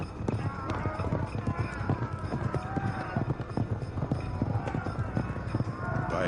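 A dense, rapid drumming of many hooves pounds on, like horses galloping together in a loud, continuous rumble.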